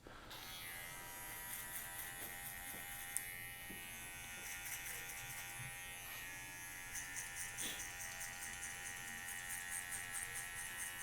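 An electric hair clipper fitted with a number 1 guard buzzes continuously while cutting hair during a fade, a steady close hum with slight changes as it moves through the hair.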